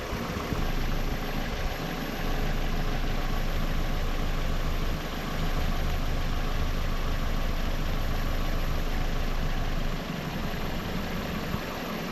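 A 2002 Toyota Corolla 1.8L engine with a lean-running P0171 fault idles steadily, a loud, close, even hum and rumble that holds for the whole stretch with no voices over it.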